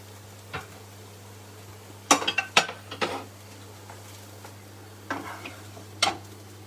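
A cooked dish being moved from a pan onto a plate: scattered scrapes and metallic clinks of a utensil against cookware in short bursts, close by over a low background hum, no talking.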